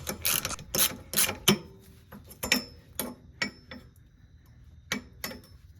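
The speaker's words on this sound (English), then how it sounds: "On both sides, you can remove the brake line hanger with a 15mm socket." A 15mm socket wrench ratchets off a brake line hanger on a Jeep JL, with close, quiet bursts of rapid clicking separated by short pauses.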